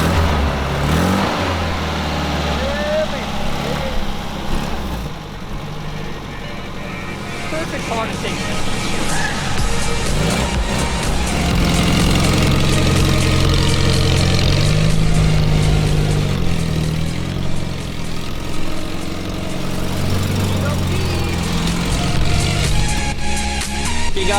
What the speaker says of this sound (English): I'm gonna jump right in now and fire it up for you guys so you guys can hear the sound of the car